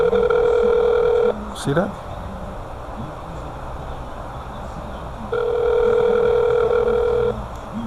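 Telephone ringback tone on an unanswered call, with two long steady tones at the start and end framing a stretch of quiet background, and a brief spoken remark between them.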